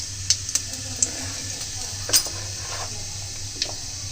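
Cumin seeds and onion tempering in hot oil, a light sizzle with sharp metal utensil clinks and stirring taps scattered throughout, near and fairly quiet.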